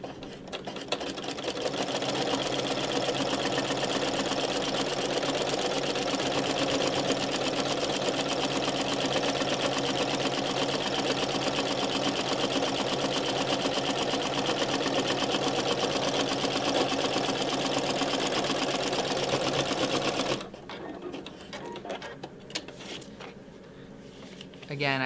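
A sewing machine runs in a steady, continuous whir for about twenty seconds while stitching a paper-pieced quilt block, then stops, leaving quiet handling noise behind.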